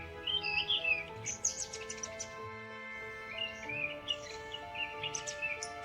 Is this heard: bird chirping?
yes